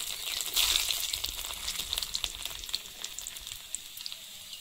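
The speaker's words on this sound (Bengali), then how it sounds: "তেল গরম হয়েছে, তেলে দেবো শুকনো লঙ্কা, গোটা জিরে, তেজপাতা" Dried red chillies, whole cumin seeds and bay leaves hit hot oil for a Bengali pumpkin curry, setting off a loud, close sizzle that flares at first and settles into steady crackling with small pops.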